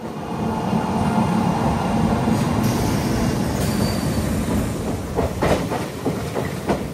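A Rajahmundry–Kakinada Port MEMU passenger special rolls along with a loud, steady rumble and hiss, metallic wheel squeals rising throughout and rhythmic track clatter toward the end, heard from on board.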